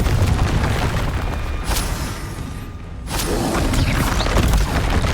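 A Confringo blasting spell explodes in the Hogwarts Legacy video game amid heavy battle noise, with booming low rumble, sharp whooshing bursts and a brief lull before the chaos resumes.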